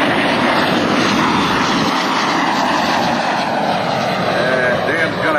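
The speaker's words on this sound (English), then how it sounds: "here's Dan McCue in the L-39 Albatross" L-39 Albatross jet flying at an airshow, a loud sustained engine roar that holds steady throughout, with an announcer's voice likely running underneath.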